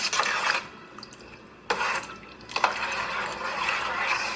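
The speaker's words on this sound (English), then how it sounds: "Stir it all up." Roux for seafood gumbo stirred in a pot, a spoon scraping and swishing in broad bursts with short pauses between them, close and steady with no talking.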